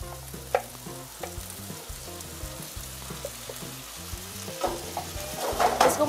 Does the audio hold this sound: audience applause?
no